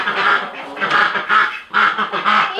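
Ducks quack repeatedly at close range in a series of loud, raspy bursts with short pauses, as they are gathered inside for the night and petted to get used to handling.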